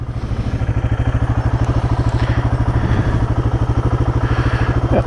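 Royal Enfield Guerrilla 450 motorcycle idling close by, a steady, even single-cylinder thumping pulse with a slight mechanical clatter, loud and unbroken, with no voices over it.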